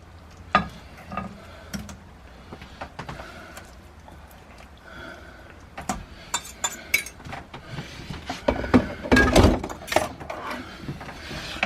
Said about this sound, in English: I shall just slip the juices and the steaks into